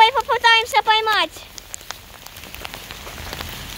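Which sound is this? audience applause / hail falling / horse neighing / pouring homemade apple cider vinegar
hail falling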